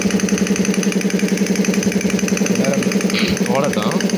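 A pneumatic circuit with a flow control valve switched on, air driving it in a loud, rapid, steady mechanical chatter that runs throughout, with a voice speaking over it.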